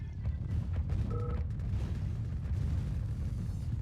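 Rumbling explosion blasts from the real-time strategy game C&C: Yuri's Revenge, a 2v2 match, giving a dense, continuous low boom with scattered crackling impacts.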